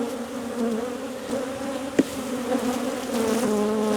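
Agitated honeybees hum loudly and continuously around an opened hive being split in poor weather, a close, wavering drone with one brief knock partway through.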